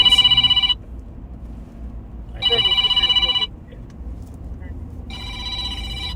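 Telephone rings in three repeated electronic bursts, each about a second long with gaps between, heard amid a busy room with background chatter and a brief spoken word.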